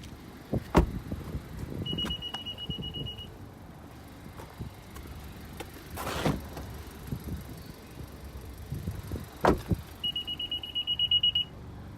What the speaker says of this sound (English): The beep is because I'm holding the keys outside the car.